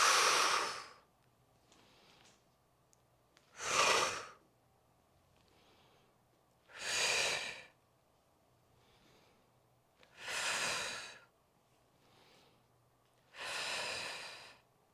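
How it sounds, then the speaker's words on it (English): Five strong, rhythmic breaths during a full-body workout, each a loud, close exhale rush spaced about three seconds apart, with near silence in between. "Inhale, exhale."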